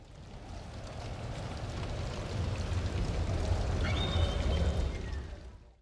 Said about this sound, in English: I decided to grab some tavern sounds and slap them over the anti-drums.